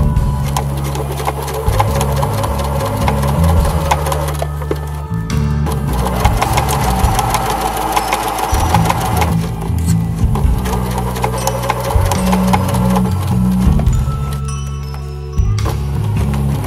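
A sewing machine runs a basting stitch along a Christmas stocking, with loud, continuous mechanical whirring in bursts that briefly pause and restart, alone with no talking.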